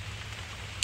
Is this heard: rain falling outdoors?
yes